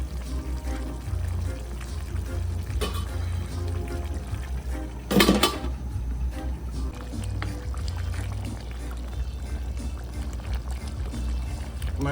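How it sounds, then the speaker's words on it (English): Water pours steadily into a pot of curry goat cooking in coconut milk, a continuous splashing gurgle over a low background hum, with a brief louder clatter midway. "I'm just adding a little water."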